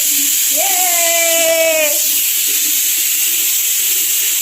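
A pressure cooker sits on a home kitchen stove, letting out a loud, continuous steam hiss with a brief rising whistle-like tone early on.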